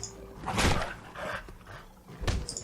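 A dog in the Fallout 4 game, in the Nuka-World add-on, barks in three short bursts, fairly faint and spaced out, with no speech.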